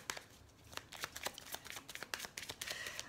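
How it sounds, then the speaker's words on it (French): Tarot cards being shuffled by hand before a single card is drawn, giving a close, quiet run of rapid riffling and flicking bursts with no talking. "Je vais tirer une carte synthèse pour voir."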